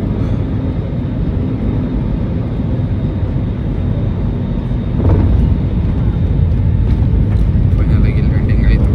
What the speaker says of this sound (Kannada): ಫೈನಲ್ ಆಗಿ ಲ್ಯಾಂಡಿಂಗ್ ಆಯಿತು ನಮ್ಮ ಬೆಂಗಳೂರು ಏರ್ಪೋರ್ಟ್ಗೆ